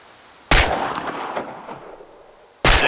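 Gunshots in the video game Chernobylite, two sharp loud shots at target practice with a decaying echo ringing between them.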